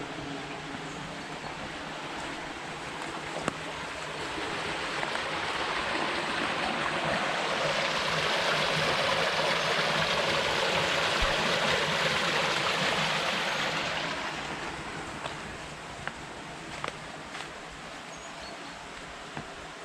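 River water spills over a small weir on a canal feeder, a steady rushing wash that swells louder in the middle and then eases back, with no voices.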